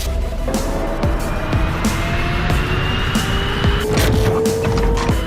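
A Hyundai RN22e electric concept car drives hard, with rising and falling electric motor whines, tire noise and a loud, continuous rush of movement.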